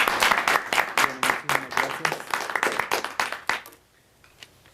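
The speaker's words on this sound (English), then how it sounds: "But a round of applause for Tomas for being with us here today." An audience claps steadily at a talk on US involvement in Honduras, sharp claps close and dense, quickly dying away to near silence after about four seconds.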